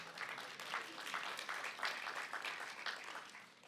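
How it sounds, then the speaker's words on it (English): Audience applause at a reentry conference address fills the room steadily, a dense and fairly quiet wash of clapping with no talk over it. "You can applaud."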